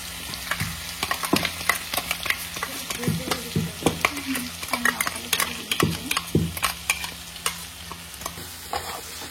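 Chicken frying with sesame seeds, stirred steadily in the pan: close scraping strokes in an irregular rhythm over a continuous sizzle.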